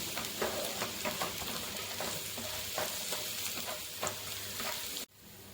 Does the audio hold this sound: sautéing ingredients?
yes